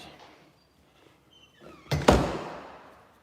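The front door of a house swings shut with a quick pair of solid wooden thuds, the second heavier, after a quiet stretch of faint room noise.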